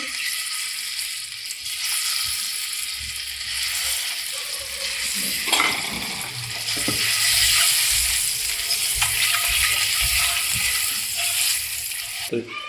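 Eggs with turmeric and masala frying in a pan on a gas stove, giving a loud constant sizzle with occasional stirring scrapes close by and no talking.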